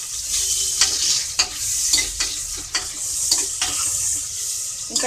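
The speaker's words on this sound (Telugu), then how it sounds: "ఆనియన్ కూడా మనకి ఫ్రై అవ్వాలి" Onions for a spicy curry sizzle and fry steadily in a pan, broken by the soft scrape of a spoon stirring at regular intervals, close up with no talking.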